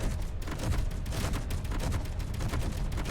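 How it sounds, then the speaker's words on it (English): Weapons and turrets fire constantly in a Space Engineers survival battle at a defense tower. The sound is a thick, unbroken wash of rapid shots and low booms with no pauses. "there's lots of weapons firing"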